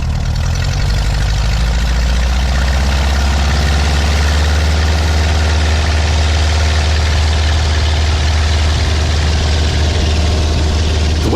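Light aircraft engine running steadily before a flight to Saint Laurent in the Médoc, a loud continuous close-up drone with a deep low rumble and harmonic hum that holds constant throughout, no voices.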